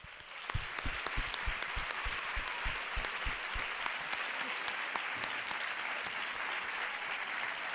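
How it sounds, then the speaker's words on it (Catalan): Applause for the players at a youth and open truc card championship prize ceremony, a steady room-filling clapping that runs the whole time, with a few sharper individual claps standing out early on. "Demanem un fort aplaudiment per a tots."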